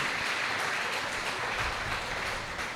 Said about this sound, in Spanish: Si lo cree, dele un fuerte aplauso a Cristo